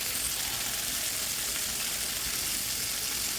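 Potato pieces deep frying in plenty of hot oil over high heat: a steady, loud, hissing sizzle with constant crackle, no talking.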